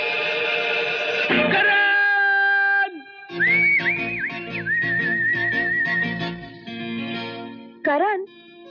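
A person whistles in a 1993 Hindi action film scene, sustained bright tones alternating with quick sliding trills, loud and close, with a few held notes and short breaks between phrases.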